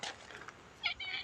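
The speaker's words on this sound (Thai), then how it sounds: "แมวเราทำหมันหมดแล้วเจ้าบุญนุ่มรอนี่ก็สู้เขาไม่ได้ตัวเล็กกว่าเขา" A temple cat in Chae Hom, Lampang, Thailand gives a single short meow near the end of a quiet moment, faint and somewhat distant against light background noise.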